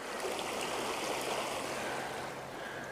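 Water of the White River in Colorado flows steadily in an unbroken broadband rush with no talk over it, close and moderately loud for the whole stretch.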